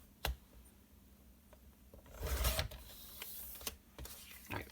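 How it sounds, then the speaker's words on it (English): Scissors cutting a paper acorn shape out of scrapbook paper: a sharp snip, then a longer rustling cut, followed by several more crisp snips and paper handling sounds, close and quiet without speech. "I'm going to cut this acorn out."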